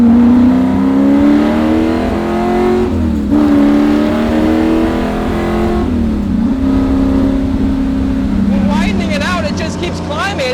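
Prototype Shelby GT350R V8 under hard acceleration, a loud rising engine roar climbing through the revs with brief gear-change dips, continuous throughout while a person talks over it.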